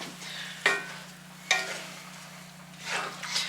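Stir-fry vegetables and sauce bubbling in a cast iron wok, a low steady sizzle broken by two sharp metal scrapes of a spatula and a later burst of louder hissing.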